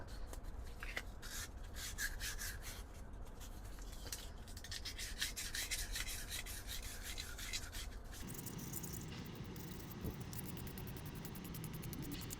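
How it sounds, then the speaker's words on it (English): Steady, continuous rubbing and scraping of sandpaper on a wooden backscratcher, close up, with rhythmic back-and-forth hand strokes that shift to a coarser, lower texture near the end. "I'm going to do some more hand sanding to continue to smooth this out."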